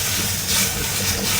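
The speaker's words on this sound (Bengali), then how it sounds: "সবার আগে একটু লঙ্কাটা ভেজে নিই" Green chillies frying in hot mustard oil in a home kitchen give a steady, close, loud sizzling hiss that holds evenly with no pauses and no voices.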